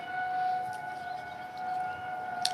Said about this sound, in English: Nothing makes me feel at home like hearing a tornado siren being tested